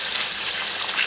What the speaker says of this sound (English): washing our beautiful orange Easter egg dyed yarn